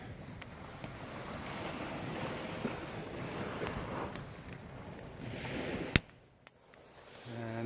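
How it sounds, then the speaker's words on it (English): Sea waves wash onto the beach at Pevensey Bay in the evening, a soft continuous rushing surf mixed with wind buffeting the microphone, with a few sharp clicks and knocks nearby. "You can hear the sea."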